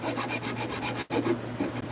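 A file rasps back and forth across a wooden piece to soften its corners, producing steady rhythmic scraping strokes close by with one brief pause midway.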